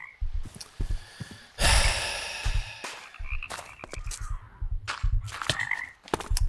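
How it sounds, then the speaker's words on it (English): Frog croaking in the Minecraft modpack RLCraft: several loud, rasping croaks in irregular bursts, one long harsh call in the middle, heard alone without talk. "It's a frog that's killing me this time."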